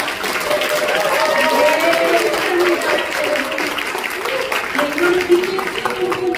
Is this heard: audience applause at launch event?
yes